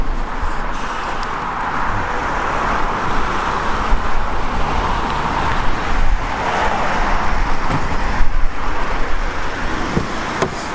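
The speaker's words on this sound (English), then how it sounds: "I'm going to jump into the car now and we're going to get on the road" A new BMW M3 cruises along the road, its engine and tyre roar heard from inside as a steady, loud drone with gentle swells, no talking.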